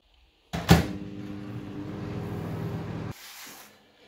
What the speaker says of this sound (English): And we'll get it in the microwave.